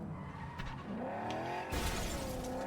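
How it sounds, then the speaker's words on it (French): Car crashing into other cars in Cyberpunk 2077: tires skid and engines roar, then a loud crunching impact with shattering debris bursts in midway, followed by continued skidding and motor noise, with no talk. "Et on va pas l'aider en frappant d'autres voitures."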